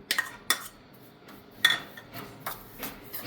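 A spoon mixes rava batter with coriander, onion, tomato, black pepper, salt, cumin and curd in a bowl, giving several sharp, irregular clinks against the bowl over quiet background.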